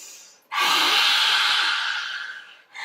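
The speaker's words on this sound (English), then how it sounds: "Deep breath in" One long, deep breath drawn in during a yoga flow, close and clear, a smooth airy rush lasting about two seconds, followed by the start of another breath.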